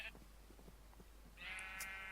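Sheep bleat in a farming video game, a faint wavering bleat near the start and a longer, louder one toward the end over a quiet background.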